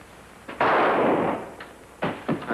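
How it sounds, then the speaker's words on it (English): A single loud gunshot rings out in an old Western serial near a bunkhouse, a sharp burst with a long rolling tail, followed by further thumps and a smaller second report. "That shot came from the direction of your bunkhouse."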